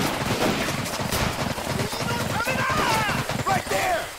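Gunfire in the Pacific war video game Medal of Honor Pacific Assault, rapid machine-gun bursts crackling steadily under shouted voices, with loud overlapping shots throughout.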